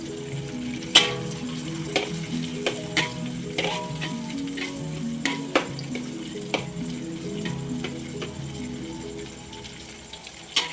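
Lemongrass frying in a pan while cooking squid sambal, with a steady sizzle broken by frequent sharp ticks and clinks of utensils against the pan, close and clear with no talk.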